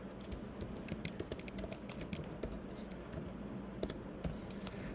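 Rapid typing on a computer keyboard while writing HTML: a quick, irregular run of crisp key clicks heard close up and alone against a quiet background.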